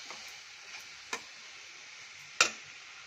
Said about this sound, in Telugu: అదే గీలో బీట్రూట్ తురిమేసి ఒక 4 to 5 minutes మీడియం ఫ్లేమ్లో వేయించుకోవాలండి